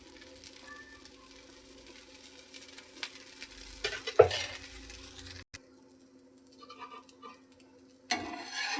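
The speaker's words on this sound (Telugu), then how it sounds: "ప్యాచ్ దోశ కొంచెం ఆయిల్ వదిలేద్దాం" Dosa frying in oil on a pan, a steady, soft sizzle and patter heard close up, with a few brief clicks and a short scrape partway through.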